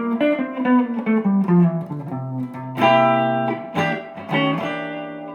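A bebop jazz line on what sounds like an effected electric guitar, weaving arpeggios through a C dominant bebop scale in quick, connected phrases with sustained notes and a few bright accents, played alone.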